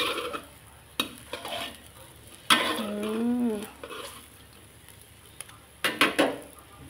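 Chinese kale being stir-fried with pork belly in a pan: scattered scraping and clanking of a spatula against the pan with faint sizzling between strokes, mostly heard alone.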